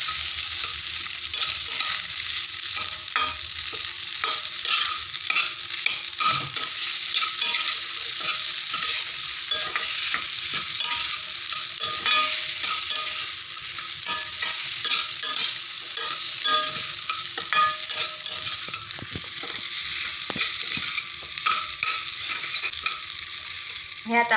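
Salt and coconut get stirred into a fasting vegetable dish in a pan, a steady sizzling fry with continuous scraping of the spoon and frequent light clicks against the pan, no voices.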